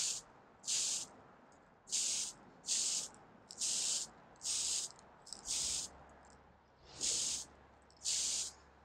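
A spray can of primer coats plastic model kit pieces in a series of about nine short, sharp hissing bursts, close and evenly spaced with brief quiet gaps between them.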